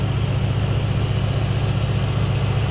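Mercedes-AMG C63 S engine idling in its engine bay, a steady, close, low rumbling drone with an even pulse throughout, no revving or talking.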